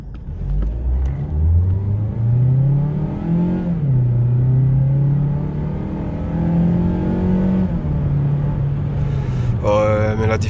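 A Mazda CX-3 urban crossover in sport mode accelerates, its engine note climbing steadily in pitch and holding strong and close for several seconds, easing briefly midway before rising again.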